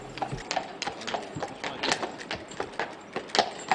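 Horse hooves clip-clop steadily on pavement as a horse-drawn waste collection cart moves through Saint-Jean-en-Royans, France, with a regular rhythm of close, moderately loud hoofbeats and no speech.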